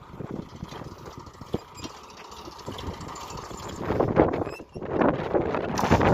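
A tractor engine idles steadily while soil is unloaded from its trolley on a farm, a rough continuous rumble with wind buffeting the microphone, swelling louder with clattering near the end.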